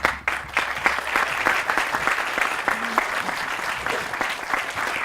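Audience applause at a groundbreaking ceremony for an environmental hall at a college in Chestertown, a steady, dense clapping crowd filling the whole stretch at even loudness.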